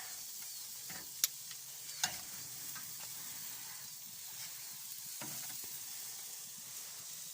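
Food sizzling over a grill fire, a steady hiss of frying heard throughout at modest level, with a couple of sharp crackles or pops early on and no talk.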